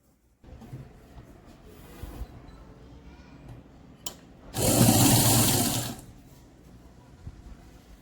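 Sewing machine stitching the cloth lining of a baby quilt, one loud burst of stitching lasting about a second and a half in the middle, with quiet handling of the fabric before and after.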